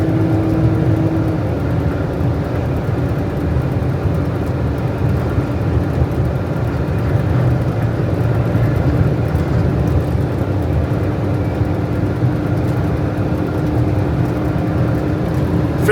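Steady road rumble and engine hum from inside a car cruising at highway speed on the new Gympie Bypass, loud and unbroken with no talking.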